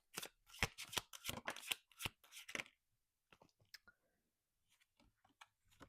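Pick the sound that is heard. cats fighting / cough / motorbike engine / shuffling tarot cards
shuffling tarot cards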